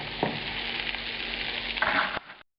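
Banana fritters dusted with confectioner's sugar sizzle steadily in a hot pan, a close, even crackle with a brief scrape as they are flipped, then the sound cuts off.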